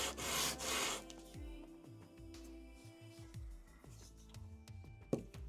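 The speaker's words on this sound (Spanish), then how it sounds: "Esta es una lija de grano fino. Acá, es una lija 120 es la medida." Fine 120-grit sandpaper rubbed firmly across a handmade ceramic tile in quick, scratchy back-and-forth strokes, close and fairly quiet, after a brief louder rustle at the start, with no talking.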